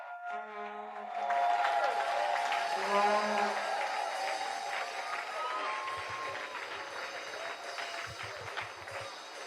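A church congregation at a gathering in Chicago breaks into applause that swells after a moment of tonal music or voice, then continues as a steady wash of clapping, with a few low thumps near the end.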